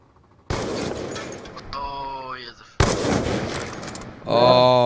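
Sniper rifle fire in a shooter video game: two loud sharp reports about two seconds apart, each followed by rattling debris and ringing tonal game effects, with a rising electronic whine near the end.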